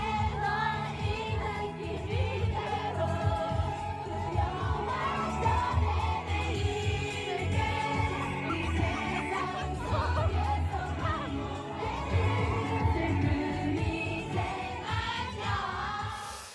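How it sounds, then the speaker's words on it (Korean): A rally crowd cheers and chants along to a pop song played loud, a dense, steady wall of music and many voices sustained throughout. "시민들은 노래에 맞춰 환호성과 구호를 외칩니다."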